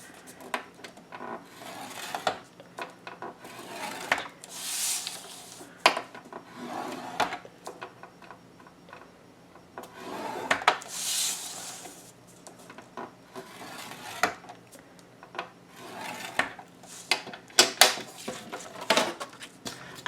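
Paper is scored on a scoreboard at 1-inch and 2-inch lines on every side, giving close, quiet, repeated scraping and rubbing strokes in irregular bursts with brief pauses between them.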